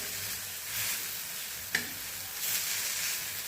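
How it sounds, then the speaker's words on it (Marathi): Green chilli thecha sautéing in a pan over a high flame, a steady close sizzle with soft stirring scrapes and one sharp clink of the spoon partway through. "एक दोन मिनटापर्यंत मोठ्या गॅसवर आपल्याला हा ठेचा छान असा परतून घ्यायचा आहे"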